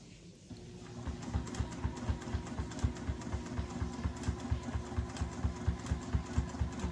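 Sewing machine stitching a snowman mini quilt, its needle running in a fast, even rhythmic chatter after a quiet start, close and moderately loud, with no talk over it.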